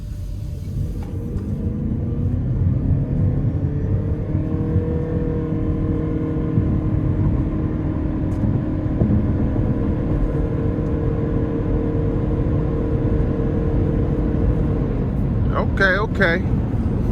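Toyota Prius plug-in hybrid accelerating moderately up to speed, a low, steady cabin rumble with a faint rising tone, while the driver talks over it.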